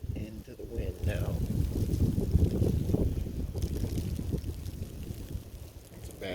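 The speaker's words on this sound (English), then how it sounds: "Looking right into the wind now." Wind from a snowstorm roars and buffets against the microphone in a heavy, continuous low rumble with gusty surges.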